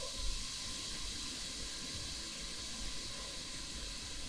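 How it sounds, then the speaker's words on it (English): Diced onions sizzling in a hot pan, a steady bright frying hiss held at even loudness throughout, close and alone without speech. "So we're gonna go ahead and add our onions to the pan. Got a nice little sizzle going on there."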